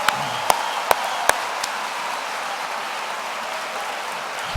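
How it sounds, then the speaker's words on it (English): A dense, steady round of applause from a large crowd at a veterinary medicine commencement ceremony, with a few sharper claps standing out near the start. "let's give this group a round of applause."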